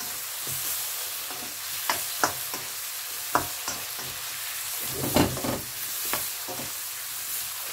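Mushrooms and garlic fry in a pan over a very high flame, giving a continuous sizzle broken by occasional sharp clatters and stirring scrapes, close and moderately loud, without speech.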